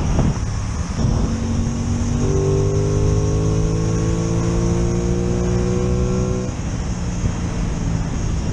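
An Aprilia Tuono 660 Factory motorcycle accelerates hard on the road, its engine note rising steadily through a long pull before easing off, with heavy wind rush throughout.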